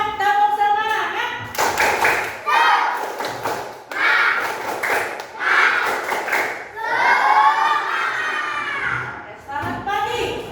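A class of schoolchildren claps in quick rhythmic bursts while chanting together, loud and close, with the group's voices running through the pattern.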